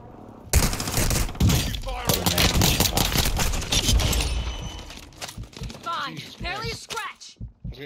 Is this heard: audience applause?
no